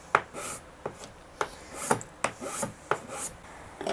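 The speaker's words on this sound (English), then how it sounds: "now I'm going to take my scraper and clean this up." Rhythmic scraping of a scraper on wood during a custom guitar build, about eight short rasping strokes in a steady back-and-forth pattern, close up and fairly quiet.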